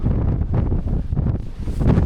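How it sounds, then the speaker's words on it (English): Strong wind on a Lake District mountain peak near 736 metres roars and buffets the microphone in heavy low rumbling gusts that swell and ease, loud and close, with no talk. "Luckily the wind is blowing towards the mountain, so it's not pushing us off, it's pushing us into it"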